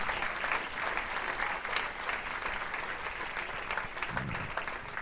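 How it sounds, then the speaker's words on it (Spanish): A church congregation in Rancagua, Chile claps for Christ, a steady, even wash of applause that sounds slightly distant and moderately quiet, continuing without a break and with no clear voices. "Fuerte ese aplauso al Rey de Gloria."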